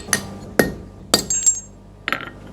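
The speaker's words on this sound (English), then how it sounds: "Best way to see if it is a good line is to just crack it open" A forge-welded iron bar struck open by hammer in a blacksmith's shop: four sharp metallic blows with ringing clinks, spaced irregularly over a couple of seconds, close and loud with nothing else around.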